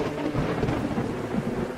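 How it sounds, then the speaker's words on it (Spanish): Deep rolling thunder rumbling continuously through a heavy rainstorm, with dense rain noise filling the background, loud and unbroken with no voices. "afuera la lluvia caía con fuerza y el cielo no dejaba de tronar"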